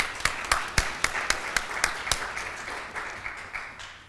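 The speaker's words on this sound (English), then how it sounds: "please give a warm round of applause for Professor Michael Gerhardt" Audience applause for a professor introduced at an academic event on reclaiming the promise of freedom: a room of distinct claps with sharp individual hits standing out, steady at first and thinning slightly toward the end.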